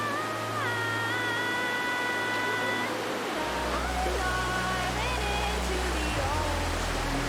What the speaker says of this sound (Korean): 플리트비체뿐 아니라 크로아티아에서도 가장 높은 폭포로 알려진 벨리키슬라 폭포